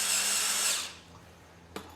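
A power tool drives a bolt during assembly of a VEVOR transmission jack: a loud, steady whirring burst for under a second, then it cuts out, leaving quiet room tone and one sharp click near the end.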